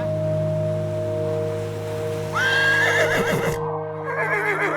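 A horse gives a loud, shaky whinny that rises and then trembles down, heard close over a steady low hum, with no talking.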